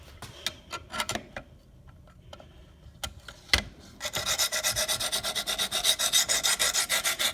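Knife edge being sharpened on a Wicked Edge system with 80 grit diamond stones: a few scattered scrapes at first, then steady rhythmic back-and-forth rasping strokes, close and clear, with no talking.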